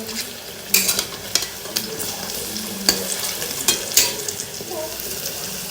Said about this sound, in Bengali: আর এবারে যে ভাজা হচ্ছে সব দিয়ে দিলাম, দেখতেই পেলে ভাজা হচ্ছে।